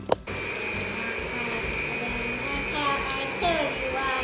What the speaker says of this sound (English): use your mixer to mix until just combined